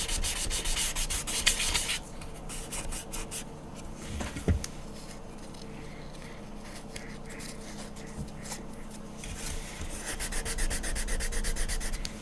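Steady scratchy rubbing of sandpaper on a plastic Star Trek model kit, smoothing edges and removing a printed number, continuous close strokes with a few brief knocks.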